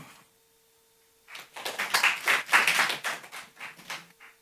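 Applause from a modest audience at a Capitola city planning meeting breaks out after a brief silence, with scattered hand claps that swell and then thin out over a few seconds, fairly close and with no talking over them.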